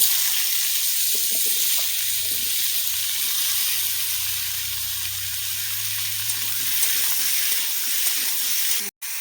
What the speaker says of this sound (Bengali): কালো জিরেটা হালকা ভাজা হয়ে গেছে এরপরে দিয়ে দেবো ধুয়ে রাখা আমগুলো